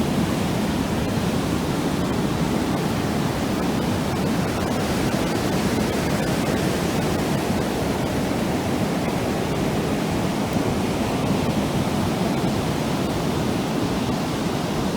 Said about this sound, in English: Push and pull of the ocean waves.